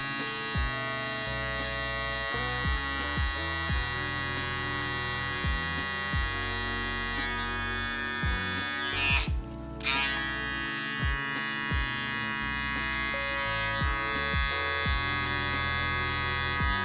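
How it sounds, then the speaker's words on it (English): A barber's electric hair trimmer buzzes steadily at close range while cleaning up a haircut outline, with a brief dip and rustle partway through. "Next up, trimmer. Just trim it up not too high."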